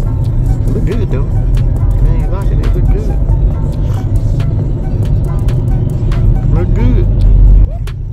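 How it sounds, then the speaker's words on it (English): Busy road traffic rumbles as cars pass by, a loud steady low engine and tire drone with occasional swells, under someone talking almost continuously. "a lot of stuff going on because traffic is hell."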